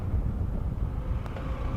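A car cruising steadily at about 54 to 56 on an open road with no speed bumps, with a continuous low rumble of road and wind noise and a faint brief tick near the end.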